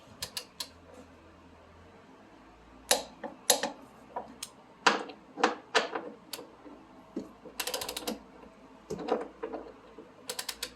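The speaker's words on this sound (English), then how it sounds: "we're going to start by torquing this one first" A ratcheting wrench on a bolt in the front suspension of a 1991 Toyota MR2 gives sharp, close clicks, first scattered, then quicker irregular runs of ratchet clicks over a quiet background.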